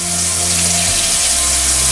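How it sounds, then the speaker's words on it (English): Hot water runs from a kitchen tap into a partially filling sink, a steady close gush with a low hum shifting partway through. "we're going to partially fill one sink with hot water"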